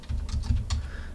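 Quick keystrokes on a computer keyboard as a number is typed in, a short close burst of light clicks with no talk.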